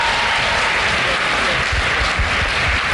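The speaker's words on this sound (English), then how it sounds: "You can clap for them." Wedding guests clap for the newly vowed couple during a ceremony, a loud continuous wash of applause with a few voices faintly underneath.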